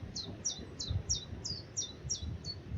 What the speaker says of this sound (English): You can hear a few little birds here and there